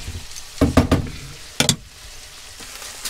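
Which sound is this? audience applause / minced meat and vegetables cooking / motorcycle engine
minced meat and vegetables cooking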